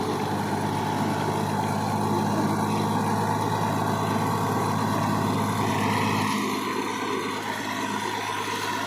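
A tractor-driven brick-making machine runs outdoors in a village, a steady, loud mechanical engine drone that shifts slightly in tone partway through, with no talking.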